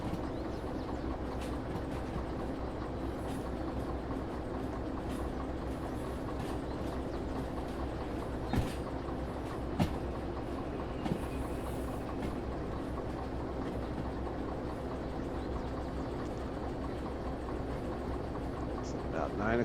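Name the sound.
train running on tracks in the Derail Valley video game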